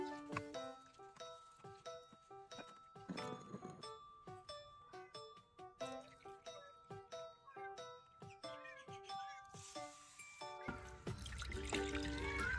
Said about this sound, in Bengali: 150 গ্রাম মুসুর ডাল নিয়েছি, এবারে ভালো করে ধুয়ে নেব।